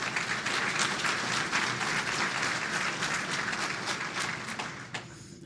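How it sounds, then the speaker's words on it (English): Applause fills the room at an electric cooperative's annual meeting and member appreciation night, a steady crowd clapping at even strength for about five seconds before thinning out at the end. "Please give them all a round of applause"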